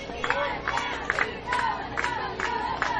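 Youth coach-pitch baseball crowd at a championship-bracket game cheers for the Texas team's defense, a steady roar of voices with rhythmic rising shouts and chants repeating every half second or so.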